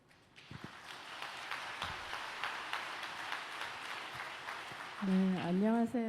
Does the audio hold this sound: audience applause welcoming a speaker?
yes